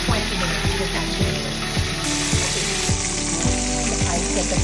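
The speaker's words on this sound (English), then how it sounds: "So we're gonna be frying this and then we'll show you the finished product in about 20 minutes" Food frying in hot oil crackles and sizzles steadily and close up, with a regular rhythmic knocking running underneath.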